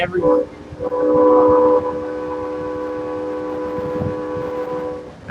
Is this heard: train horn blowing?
yes